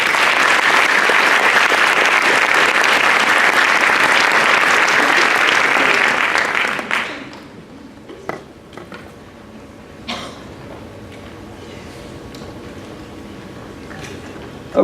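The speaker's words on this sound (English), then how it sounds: "give him a round of applause." An audience at a school sports awards evening applauds loudly for about seven seconds, then the clapping fades into a quiet room with scattered coughs and small noises.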